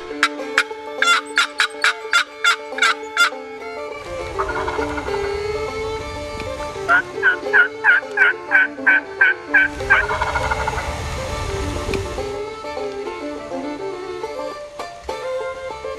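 Wild turkeys gobble during a turkey hunt outdoors, sounding rapid rattling gobble bursts in several rounds, loud and fairly near, with duller rumbling stretches between calls and no talking.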